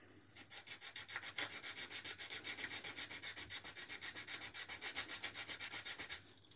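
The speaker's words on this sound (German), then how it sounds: "Also ich schleife das jetzt hier mal runter." Steady rhythmic rasping of sandpaper rubbed back and forth on a plastic part of a 1/48 A-10 model kit, close up, with fast even strokes and no talking.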